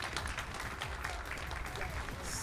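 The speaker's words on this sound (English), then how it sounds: "Clap it up, definitely." Audience applause at a summer speedrunning marathon during a Mirror's Edge Any% run, a steady dense wash of clapping from a crowd filling the whole moment, with commentary voices over it.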